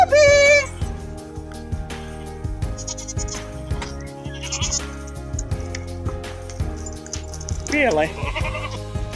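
Goats on a farm bleat several times, sharp wavering cries rising close by over a backdrop of music, while a person speaks briefly.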